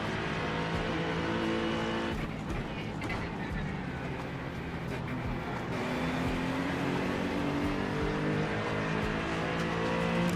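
Acura Honda NSX GT3 race car engine in the iRacing sim at Watkins Glen, a steady loud drone with shifting harmonic pitch that holds throughout, with brief tire squeal mixed in.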